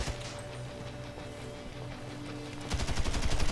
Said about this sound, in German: Ich höre schon wieder Schüsse.